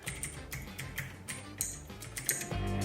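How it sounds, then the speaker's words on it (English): Fast typing on a FINEDAY 3.0 Bluetooth mechanical keyboard with an all-aluminum body and aluminum keycaps, giving close, crisp key clacks in quick irregular bursts with short pauses between them. "FINEDAY 3 keyboard used full aluminum on all parts, from the keyboard body to keycaps."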